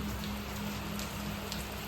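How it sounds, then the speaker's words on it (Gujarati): Steady rain falls over farm fields at night, a continuous soft hiss of drops on surfaces with a low hum underneath, even and unbroken throughout with no voices. "ચાલુ છે વરસાદ ધીમે થાય."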